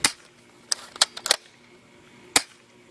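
A FAMAS airsoft gun fires outdoors in a handful of sharp, irregularly spaced snapping shots, a few clustered close together and one isolated, moderately loud against a quiet background.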